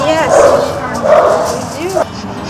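A dog lets out several yips and whiny bow-wows, high and close, with a short yelp near the end, mixed with a person's voice in the background.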